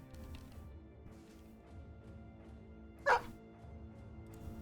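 A single short, sharp dog bark in the Battle Brothers video game, heard once over a low, busy background of game sounds.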